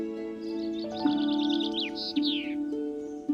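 Clear chaffinch song: a quick run of cheerful notes accelerating downward into a final flourish, with gentle instrumental music underneath.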